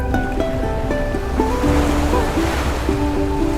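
Waves wash and surge continuously around the Indian Navy ship INS Saryu as it rolls at sea near the Andaman Islands, mixed with wind noise and a soft melodic music bed, with no voices.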